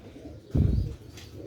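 A Sialkoti black-faced pigeon gives a single short, low, near coo over a quiet background.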